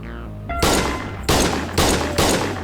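Four loud, sharp gunshot bursts from a gunfight in the Schedule I video game, spaced at roughly even intervals with brief tails between, close and punchy, after a short low musical tone.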